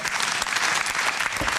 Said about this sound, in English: You got an applause from Tyler on that one.